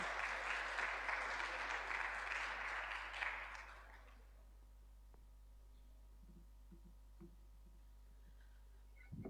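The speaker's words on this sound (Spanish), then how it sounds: "Un aplauso para Karina." An audience applauds steadily for a speaker at a talk on HIV/AIDS, gender and human rights, the clapping fading out after a few seconds into a quiet room with a low hum.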